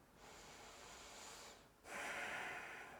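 A person breathing slowly during a yoga class, a long soft inhale and then a louder, airy exhale, close and steady, with no talking.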